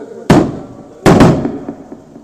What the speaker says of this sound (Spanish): Dígale que dejen de echar cohetes.